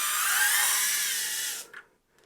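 Right-angled drill driver whines steadily at high speed while backing screws out of an MFT workbench, loud and close, then cuts off abruptly with a brief rattle and near silence.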